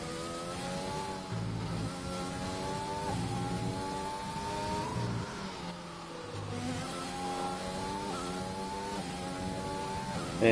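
Onboard race car engine from a sim racing game at the Belgian GP, a steady high whine whose pitch climbs and drops through gear changes and corners, loud and continuous with no voices.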